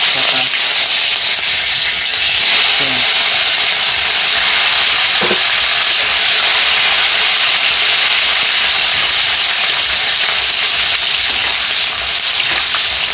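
Dried red chillies and bay leaf sizzle in hot oil in a home kitchen pan, a steady bright crackling hiss held loud and close for the whole stretch, with an occasional faint clink and barely any voice.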